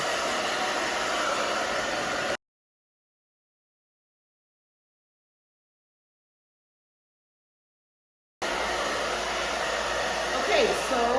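A hair dryer blows loudly and close while drying hair during a bob haircut, a steady whooshing roar that stops abruptly, falls silent for several seconds, then resumes.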